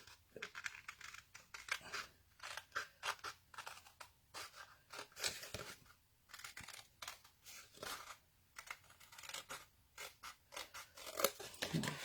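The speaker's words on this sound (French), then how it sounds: "C'est fou ce que je découpe droit avec des ciseaux." Scissors snip steadily through paper, a brisk series of crisp, close cutting strokes repeating for several seconds with no talking.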